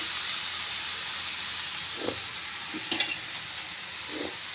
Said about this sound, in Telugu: ఇప్పుడు ఇందులోకి మనం వేడినీటిలో పెట్టి పిండుకొని ఉంచుకున్న కీమాని వేసుకుంటున్నామండి